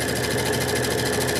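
An embroidery machine runs a placement stitch, a steady fast mechanical whir with rapid needle pulsing, loud and continuous throughout.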